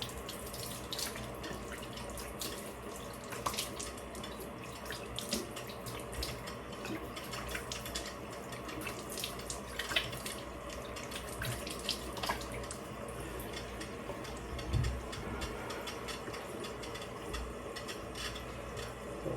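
Tap water runs steadily into a sink while skincare is rinsed off the face, a soft continuous splashing with small irregular drips and splashes, close but fairly quiet.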